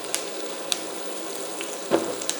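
Butter sizzles steadily in a frying pan ready for gluten-free pierogies, a continuous close hiss with a few sharp crackles and spits.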